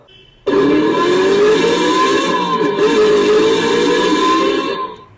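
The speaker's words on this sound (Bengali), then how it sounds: "এবারে কিন্তু পেট্রোল বাইকের মতো সাউন্ড হবে।" An electric bike's add-on sound system plays a synthetic petrol-motorbike engine note that starts abruptly, holds a loud steady hum with slight rising and falling pitch for several seconds, then cuts off.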